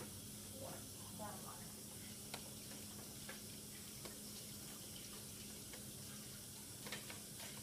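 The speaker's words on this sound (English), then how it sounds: "how long should I wash my hands for?" Water runs steadily from a tap into a sink for hand washing, a soft continuous hiss with faint splashes, quiet and even throughout.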